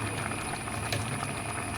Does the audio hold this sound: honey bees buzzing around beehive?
no